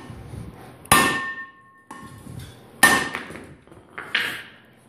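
A utility shovel struck hard three times at roughly two-second intervals, each blow a sharp metallic clang with a brief ringing tail, close and loud against a quiet background.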